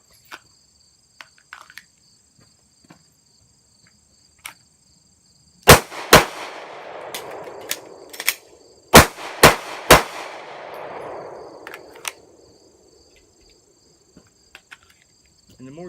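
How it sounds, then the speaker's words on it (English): Sharp metallic clacks and clicks from rounds being loaded into a handgun magazine during a speed-reload drill, a close burst of loud impacts in the middle with scattered lighter clicks around it, no speech. "We'll go ahead and put another round in this mag, and we'll do that one more time."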